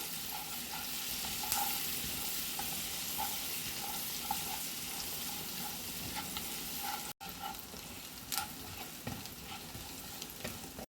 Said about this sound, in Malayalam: വെളുത്തുള്ളി നന്നായിട്ടൊന്ന് മൂപ്പിച്ചെടുക്കണം